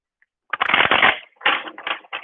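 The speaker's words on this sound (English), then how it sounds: "Quick 2 shuffles here." Oracle cards are shuffled by hand in two quick bursts, a close, crisp riffling flutter followed by shorter snapping rustles, with no talking.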